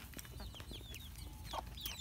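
Miss Donna, a Silkie hen, clucks softly among her brood of chicks, whose high peeps and chirps come in quick repeated bursts, faint and close.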